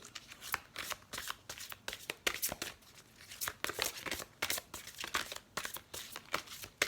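Tarot cards are shuffled for a reading in rapid riffling bursts, a crisp papery flutter repeating throughout at close range and fairly quiet.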